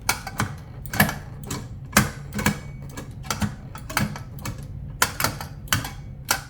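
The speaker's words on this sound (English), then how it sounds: "shifts feel notchy and confident, although it can be quite loud" Sharp mechanical clicks and clunks at an irregular pace as a metal H-pattern shifter on a sim racing rig is snapped through its gears, notchy, close and fairly loud.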